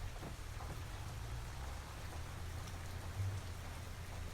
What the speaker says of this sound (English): Wow, this rain really is not what we needed this morning.